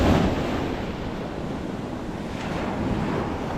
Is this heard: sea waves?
yes